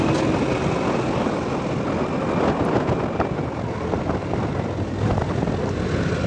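Steady broadband wind roaring continuously near the town of Barabai, Indonesia, a constant full rush with gusty fluctuations and no voices.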